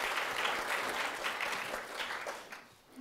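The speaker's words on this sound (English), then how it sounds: "I'd like to give a round of applause for all." An audience applauds at a talk event, steady broadband clapping from a crowd that holds fairly even for about three seconds before tapering slightly at the end.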